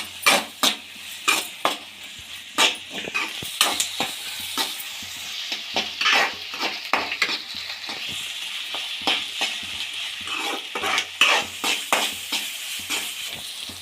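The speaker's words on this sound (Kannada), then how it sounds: "1 ಟೇಬಲ್ ಸ್ಪೂನ್ ಶುಂಠಿ ಬೆಳ್ಳುಳ್ಳಿ ಪೇಸ್ಟ್ ಹಾಕ್ಕೊಂಡು ಹಸಿ ಸ್ಮೆಲ್ ಹೋಗೋವರೆಗೂ ಹುರ್ಕೊಳ್ಳಿ." Onions with ginger garlic paste sautéing in a pan for aloo matar, a continuous sizzle punctuated by many sharp spoon-on-pan knocks and scrapes in an uneven rhythm, close and clear, no voices.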